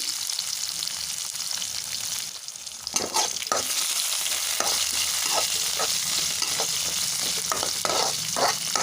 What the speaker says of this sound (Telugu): ఇలా ఉల్లిగడ్డల్ని అయితే మనం ఆయిల్లో కొంచెం దూరగా అయితే వేగే వరకు వేయించుకోవాలి